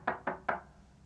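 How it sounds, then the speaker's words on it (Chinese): Three sharp knocks on a door in quick, even succession, close by and fairly quiet, followed by silence. "我这儿来人敲门了"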